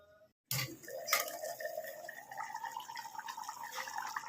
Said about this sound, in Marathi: आता आपण पाणी सोडूया ह्याच्यावर